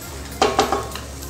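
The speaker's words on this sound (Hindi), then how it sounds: "थोड़ी सी गाजर और थोड़ी सी बीन्स डालेंगे। इसे हम अच्छे तरीके से चला लेंगे।" Carrots and beans get stirred in a cooking pan, with a few quick scraping clinks and a soft sizzle heard close up in a quiet kitchen.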